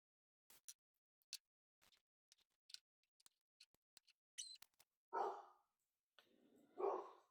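A dog barks a couple of times at a distance in a quiet workshop where a big-block engine is being built, with sparse ticks and clicks of parts being handled beforehand.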